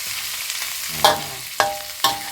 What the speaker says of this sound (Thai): ผัดนะคะ ใส่น้ำปลา น้ำตาลทรายนะคะปรุงรสลงไปเลยจ้ะ